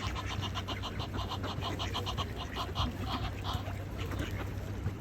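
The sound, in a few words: ducks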